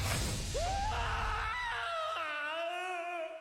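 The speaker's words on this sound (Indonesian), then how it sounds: "Johan yang ketakutan berteriak sangat kencang." A man screams loudly in fear, a drawn-out wavering wail that rises and bends in pitch, then breaks into a second sustained cry.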